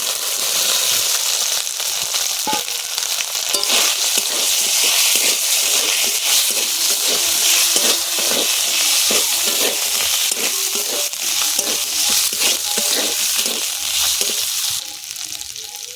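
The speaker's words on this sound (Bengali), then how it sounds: "আলু ভালো করে কষাই করে নিয়েছি।" Fried potatoes being sautéed in oil with ginger, cumin and green chilli paste, a steady close sizzle with repeated scraping and stirring clicks throughout.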